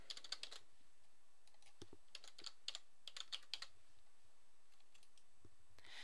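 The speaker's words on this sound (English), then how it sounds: "Start by typing in your name." Quick bursts of keystrokes on a computer keyboard while a name is typed into an online account form, clicking in short irregular runs with brief pauses, close and fairly quiet, with no voices.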